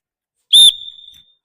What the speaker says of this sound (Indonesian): Ketika peluit berbunyi, mulai lagi.